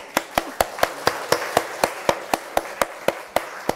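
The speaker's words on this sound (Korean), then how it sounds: "다 같이 박수 한번 해볼까요?" A church congregation claps together in a steady, even rhythm of about fourteen sharp, unified claps, fairly close and with no talking over them.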